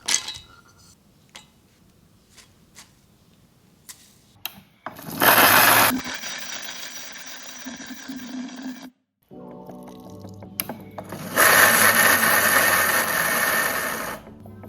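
An Atomberg mixer grinder runs in coarse mode to make chutney in an Indian kitchen. Loud whirring grinding comes in short pulsed bursts with brief pauses between them, and light clinks sound in the quieter gaps.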